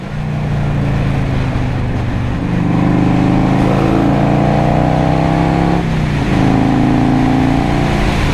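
A 1984 Harley Davidson FLT Tour Glide with a 2-into-1 SuperTrapp exhaust rides along a highway, its engine a loud, steady rumbling drone that swells slightly as it pulls.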